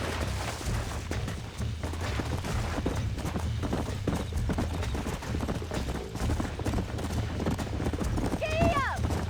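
Horse hooves clip-clop at a steady galloping rhythm in Red Dead Redemption, close and continuous under rumbling movement, with a horse whinnying near the end and people talking over it.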